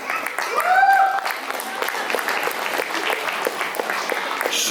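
An audience claps steadily through a Diwali cultural program in a community hall, the dense applause continuing throughout while a voice rises briefly near the start.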